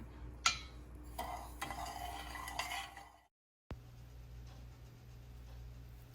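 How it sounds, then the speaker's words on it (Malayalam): A spoon stirs and scrapes sugar into milk in a bowl for chocolate ganache, giving close clinks and gritty swirling strokes, then a brief pause before a quieter, steady background continues. "അതിലേക്ക് 1/2 കപ്പ് പഞ്ചസാര ചേർത്തിട്ട് നന്നായിട്ടൊന്ന് മിക്സ് ചെയ്ത് കൊടുക്കാം"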